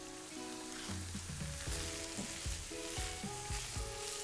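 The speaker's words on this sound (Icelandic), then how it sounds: "Þú steikir við þetta í smá stund eða þangað til hakkið er steikt í gegn." Minced meat sizzles and fries in olive oil in a pan for taco filling, a steady close crackle with occasional scraping stirs and no talking.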